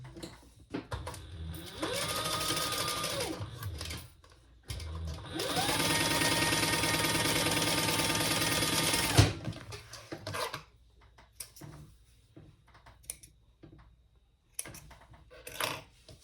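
Sewing machine top stitching a crossbody bag, with two sustained bursts of fast, even stitching separated by a pause, followed by light handling clicks and rustles.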